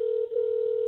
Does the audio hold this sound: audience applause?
no